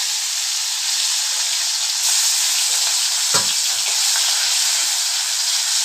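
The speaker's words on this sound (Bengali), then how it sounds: "এখানে তেল বসিয়ে দিয়েছি। এবার আমি দেখো দিয়ে দিচ্ছি শুটকিগুলো।" Dried fish sizzles steadily in hot oil with a taro and onion dish nearby, a loud, continuous frying hiss with a brief stir or clatter midway, and no voices.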